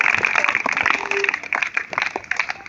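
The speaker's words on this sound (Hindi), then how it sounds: "तालियां बजाइए।" Students clapping during a school session on vegetarianism and the environment, a brief burst of scattered, moderately loud handclaps with some voices mixed in.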